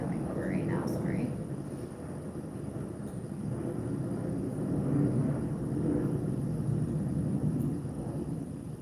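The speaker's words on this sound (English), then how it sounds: "there's a jet going over right now" A jet aircraft passing overhead, a broad steady rumble that swells gently and lingers in the background of a quiet indoor room.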